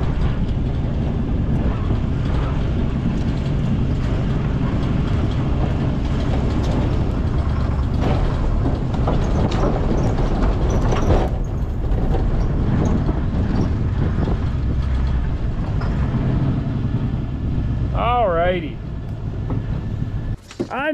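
A 1959 Oldsmobile Dynamic 88, long left sitting, rolls over grass with a steady, loud low rumble and broadband rattle, a voice talking over it, before the sound thins out near the end.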